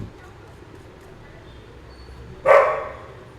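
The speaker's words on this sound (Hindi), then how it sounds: "अगर आपको मेरे डॉग की आवाज़ आ रही है पीछे में तो प्लीज़ उसको इग्नोर मारना" A pet dog gives a single sharp bark from somewhere in the background of a quiet indoor room, breaking an otherwise low, steady hush near the end.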